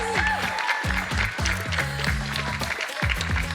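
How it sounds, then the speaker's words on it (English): An audience applauds a team at a grand final event, with steady clapping mixed under loud music that has descending tonal phrases, all continuous and fairly close. "Give them a big round of applause."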